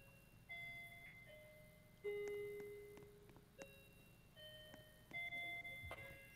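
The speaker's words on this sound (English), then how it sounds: "That's not a doorbell, that's a clock." Chiming clock from a home clock collection, sounding a series of clear bell-like tones spread across several seconds, moderately loud in a quiet room with no talk.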